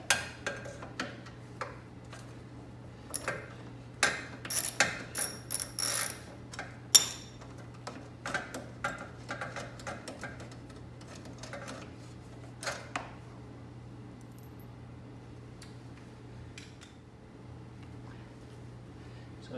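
Clicks, taps and light metallic knocks come from hands working an airbox loose on a Porsche 911 engine during a plenum installation, clustered in irregular bursts with quieter gaps over a faint steady hum.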